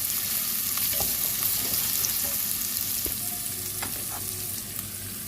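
Onions sizzle steadily in hot oil, a constant crackling hiss with occasional pops and faint stirring clicks.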